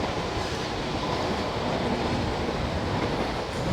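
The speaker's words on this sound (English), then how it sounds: "it's a bit breezy in this arch" Wind gusts through the arch of a disused railway viaduct, a constant broadband rumble and rush with no talking.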